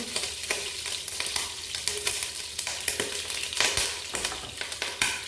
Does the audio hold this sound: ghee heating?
yes